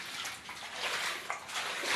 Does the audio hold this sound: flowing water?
yes